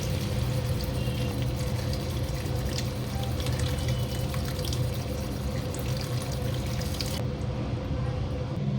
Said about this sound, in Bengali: ঝিঙেগুলোকে কাটার আগে খুব ভালো করে ধুয়ে নেবো